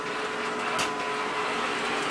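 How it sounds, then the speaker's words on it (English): A robot vacuum cleaner running on its first cleaning run gives off a steady, even whirring hiss that stays at one level throughout, close and unbroken, with no voices. "Hey, robot vacuum cleaner. Trying it out for the first time."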